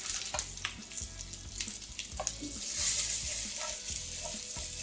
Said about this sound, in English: Just cook this till the cashew nuts change color.